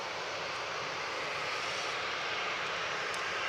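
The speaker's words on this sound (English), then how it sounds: "Right now, 3208 to Agadir, departing now, EIDLY 737800." A Boeing 737-800 jet departing Manchester Airport for Agadir gives off a steady, broad roar. The sound is distant and even, with no voices over it.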